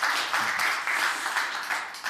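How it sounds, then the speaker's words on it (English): Audience applause welcoming panelists at a World Economic Forum session, a steady, dense wash of clapping from a large room that holds at an even level throughout. "please give them a round of applause."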